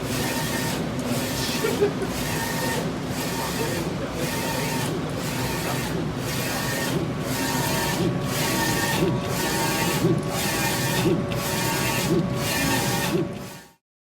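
DTF printer printing on double-sided hot peel film, the print head shuttling back and forth in regular passes under a steady mechanical whir that cuts off at the end, close, no talking.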